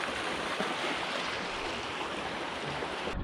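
A small river swollen with snowmelt pours past nearby in a steady, full roar of churning water, unbroken and without speech.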